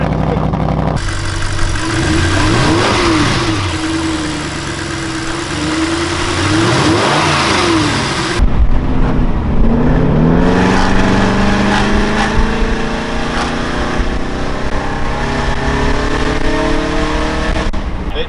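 An Audi B8.5 RS5 engine with an Eventuri aftermarket intake starts and idles, then revs repeatedly in rising and falling sweeps with a deep, throaty intake roar, loud and close.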